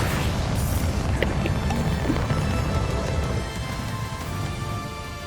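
Bombarda blasting spell in Hogwarts Legacy, a loud continuous rumbling boom with crackling debris that fills the clip and eases slightly toward the end.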